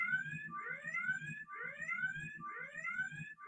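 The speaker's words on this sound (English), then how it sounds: "Computer, red alert." A red alert alarm played by an Amazon Echo skill repeats a rising whooping siren tone about every second, steady and moderately loud, with a low throbbing pulse beneath it.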